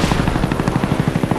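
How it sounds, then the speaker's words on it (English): A Huey helicopter arriving in Call of Duty Black Ops: loud, close rotor thumping in a steady fast rhythm, heard alone and continuous throughout. "Friendly Huey inbound."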